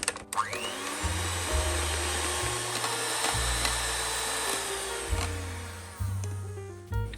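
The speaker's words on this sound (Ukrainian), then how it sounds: "Розбиваю вишки." An electric mixer whirs loudly while whipping cream, its motor pitch shifting up and down as the speed changes, then cutting out briefly.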